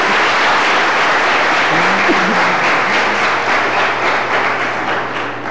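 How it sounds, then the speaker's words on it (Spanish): A church congregation applauds a preacher who also sings, with a broad, steady wash of clapping that continues throughout and tapers slightly toward the end, a faint low hum beneath it. "Y eso merece un buen aplauso"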